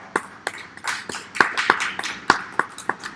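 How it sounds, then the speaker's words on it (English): Scattered applause from a small crowd at a county fair goat show ring, a handful of sharp, uneven hand claps popping out one by one rather than a full ovation. "Let's give that young lady a nice round of applause."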